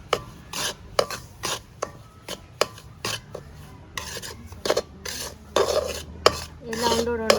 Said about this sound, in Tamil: ரவையை கொட்டின உடனேக்கு நல்லா கலந்து எடுக்கணும், அடி பிடிக்காமல்.